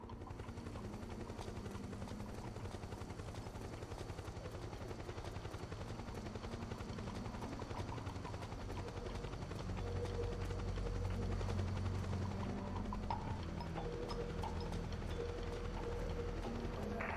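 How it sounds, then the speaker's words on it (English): A helicopter in the Metal Gear Solid 4: Guns of the Patriots video game flies overhead, its steady rotor drone holding throughout and swelling louder midway, with no one talking. "hearing a chopper is a good sign"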